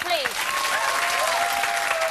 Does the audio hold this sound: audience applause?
yes